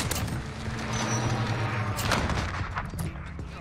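Sniper rifle fire in Modern Warfare multiplayer, using the AX50 and HDR, with heavy gunshot blasts over a dense, rumbling battle bed and no voices.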